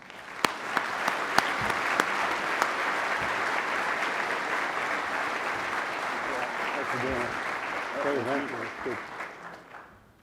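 A conference audience at the NDTA-USTRANSCOM Fall Meeting 2019 gives sustained, even applause welcoming General Steve Lyons, steady throughout and tapering at the end, with a voice briefly emerging near the close.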